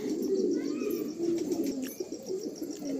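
Pigeons coo softly in a pigeon loft, with low rolling coos overlapping in a close, faint murmur and a few small chirps and rustles behind them.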